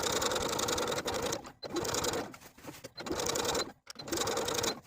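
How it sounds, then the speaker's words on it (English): A sewing machine edge-stitches fabric binding to a seam allowance on a vest, running in steady whirring bursts of about a second each, separated by brief pauses, close and fairly loud with no talk. "We're going to sew the binding to the seam allowance, edge stitching close to that seam all the way around."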